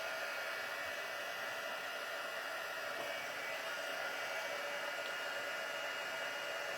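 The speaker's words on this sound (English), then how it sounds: "And we will take the heat tool and heat it up." Handheld heat tool warming up for rubber-stamp cardmaking, blowing a steady, even hiss like a small hair dryer that holds constant from start to finish, close and fairly quiet, with no talking.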